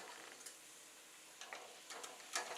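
Faint, soft sizzling with scattered light crackles and small clicks of split cashews frying gently in oil, quiet and close.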